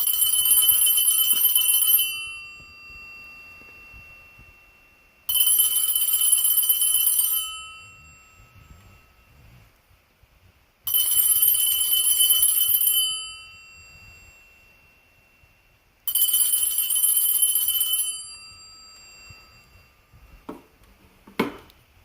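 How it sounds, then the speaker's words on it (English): Radio Shack 43175 mechanical telephone bell ringer ringing in four loud, metallic bursts of about two seconds each, separated by silent gaps, followed by faint handling clicks at the end. "this is the Radio Shack 43175 mechanical bell ringer"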